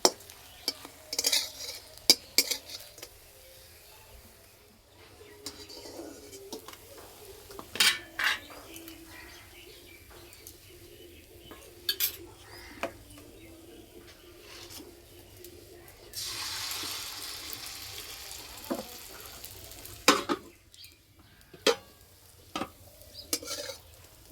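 Chhana poa pitha, sweet cottage-cheese fritters for a New Year special, frying in a pan with a soft steady sizzle, broken by scattered utensil clinks and stirring scrapes, one stretch of louder hiss near the end.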